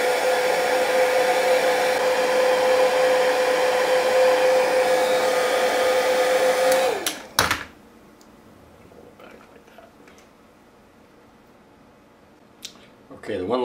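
Heat gun blowing steadily to shrink tubing on a USB video out cable for a Hero 3 camera, a loud constant whine for about seven seconds before cutting off, leaving quiet handling noises and faint clicks.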